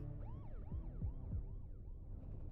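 A wailing police siren rises and falls in quick repeated sweeps, fairly quiet and alone, for a few seconds.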